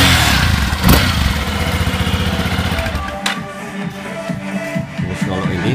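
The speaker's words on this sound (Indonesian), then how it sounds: "kalau ini motor kesayangan biasa si Raiden namanya. Zero 250cc" Engine of a Zero 250cc motorcycle running in a home garage in Japan, a steady low rumble that stays loud and close throughout, with a brief sharp knock near the start.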